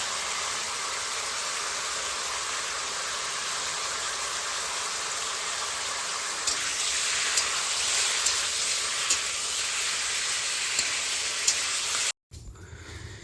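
Ash gourd pieces fry steadily in a hot pan with cumin powder and dried chilli powder, a continuous loud hiss and sizzle that swells slightly midway before cutting off abruptly.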